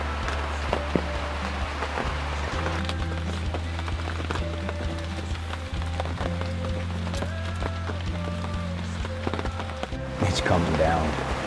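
Heavy rain pours steadily on a hunting blind, a continuous dense wash of drumming drops with scattered louder taps throughout.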